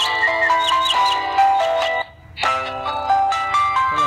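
A polyphonic ringtone plays from a Land Rover K888 mobile phone, a loud, bright melodic tune in repeating phrases with a short pause midway before the melody resumes, no talk over it.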